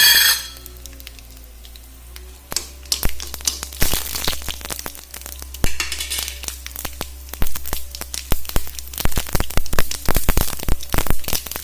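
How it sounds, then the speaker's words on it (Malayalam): Mustard and fenugreek seeds splutter in hot oil for a mango pachadi: after a quiet hiss, loud irregular pops and crackles burst out in quick clusters over a steady frying sizzle, close and getting denser. "ഇനി നമുക്കേക്ക് കടുകും ഉലുവയും കൂടി ചേർത്ത് കൊടുക്കാം."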